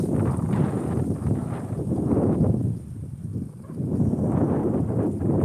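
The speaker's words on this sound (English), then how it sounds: "Here comes the wind." Wind picking up during a thunderstorm in southern New Jersey, a loud rumbling gusty roar that buffets the microphone in surging waves, with no one speaking.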